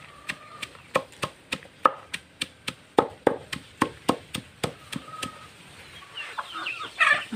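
Chickens clucking nearby over a steady series of sharp, rhythmic chopping knocks, with a louder burst of activity at the end.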